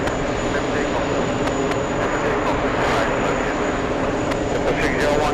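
Airliner taking off from runway 22 right at JFK airport, a steady broad jet engine roar heard from a distance, constant and unbroken with faint background noise.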